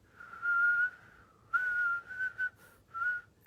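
Men in the street whistle at a woman: several sharp, tonal whistles, one long held note then a string of shorter rising and falling bursts, fairly loud and clear with no talking.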